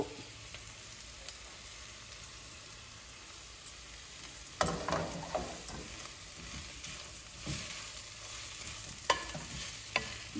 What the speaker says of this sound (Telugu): కొంచెం అల్లం ఒక నలుసు వేగిన తర్వాత మెంతి కూర వేస్తున్నానండి